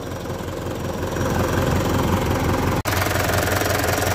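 A Japan-surplus truck's 4M51 CRDI diesel engine idles nearby with a steady low knocking rumble, briefly cut by a click before it continues running.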